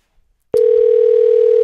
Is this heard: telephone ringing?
yes